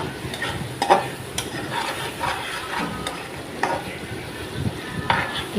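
Prawns with onion, turmeric and chili fry in hot oil, a steady close sizzle broken by repeated scraping stirs of a spatula in the pan.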